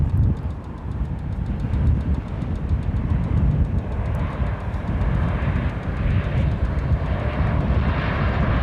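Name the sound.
American Airlines airplane taking off at DFW Airport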